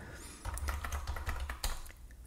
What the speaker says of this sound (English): This is a cheap keyboard.